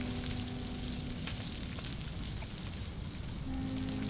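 A campfire burns with food cooking over it in the survival game Stranded Deep, giving a steady, dense crackle and sizzle that holds evenly throughout with no voices.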